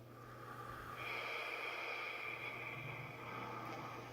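A slow, steady exhale during a guided breathing exercise, a breathy airy rush lasting a few seconds, fairly close and alone without talk.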